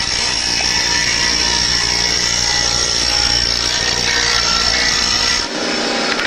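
A blade being sharpened in a film scene, heard as a loud, continuous grinding rasp that runs without a break and cuts off near the end.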